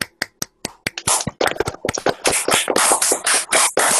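Children in a classroom clap their hands, starting with a few sharp separate claps that quickly build into a dense, loud burst of patterned clapping, close by.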